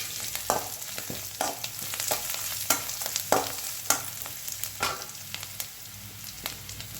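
Garlic and cashews frying in a pan, a continuous close sizzle with the crackle rising and falling, broken by frequent spoon scrapes and pops.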